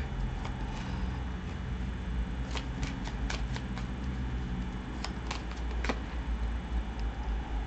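Tarot cards being shuffled during a reading, continuous soft papery riffling with a few sharper slaps and flicks, close and fairly quiet without speech.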